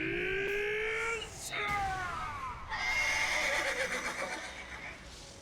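Horses neigh and whinny loudly in a battle scene from the anime Vinland Saga, with two rising-and-falling calls, followed by clashing, ringing noise.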